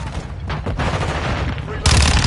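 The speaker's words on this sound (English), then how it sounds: "Taking effective fire!" Gunfire in a military video game: loud bursts of rapid shots crackle over battle noise and radio-style callouts, ending in a heavier, louder blast of fire.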